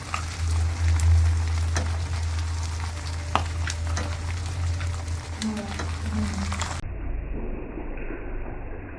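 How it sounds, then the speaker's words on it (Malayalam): Sea bream frying in oil over a medium flame, a steady close sizzle with occasional pops and faint stirring, continuing evenly before quieting near the end. "ഞങ്ങൾ കുറച്ച് സീബ്രീം മേടിച്ചിട്ടുണ്ട്. അപ്പൊ അതിനെ ഫ്രൈ ചെയ്തുകൊണ്ടിരിക്കുക."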